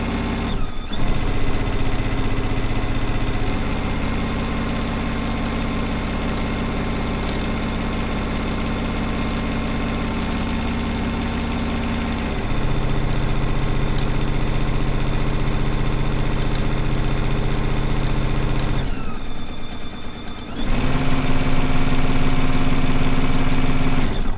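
Sewing machine running steadily while stitching quilting fabric strips together, a close, continuous mechanical hum whose pitch shifts between speed settings, with a short pause and restart near the end.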